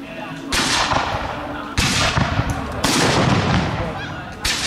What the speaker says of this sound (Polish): Przed nami kolejna scena walki ogniowej prowadzonej przez regularne oddziały piechoty.